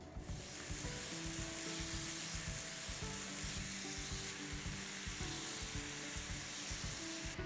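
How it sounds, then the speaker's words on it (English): Onion paste sautés in a hot pan with a loud, continuous close sizzle and hiss, broken by occasional stirring scrapes and with no talk. "Now I'm going to add some garlic, some ginger, and saute that with this onion paste"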